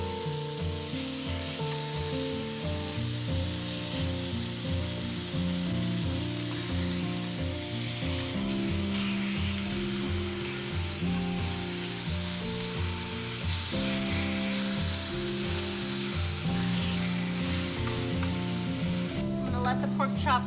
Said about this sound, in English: then start cooking the pork chops